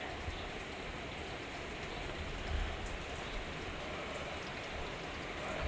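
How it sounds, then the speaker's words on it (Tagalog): Heavy rain pours steadily outside a house, a dense, continuous hiss and patter on surfaces with no pauses, close and fairly even in loudness throughout. "Paminawag maing uwan. Kusog ang uwan no?"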